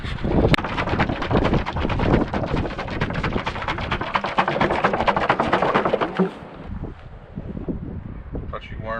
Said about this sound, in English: The wind's blowing about 900 miles an hour